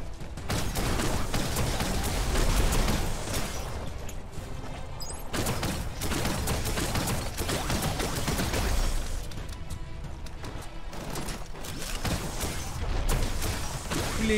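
Gunfire from a gun in the video game Biomutant, rapid dense bursts of shots and impacts that stay loud throughout, with brief pauses between volleys.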